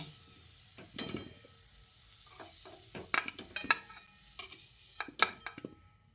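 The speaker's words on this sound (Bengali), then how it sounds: "এবার এই ভাজা আলুগুলোকে একটা প্লেটের মধ্যে তুলে নিচ্ছি।" Metal utensils scrape and clink against a wok and plate as fried potatoes are lifted out, in a series of sharp, close knocks and scrapes with a faint sizzle underneath.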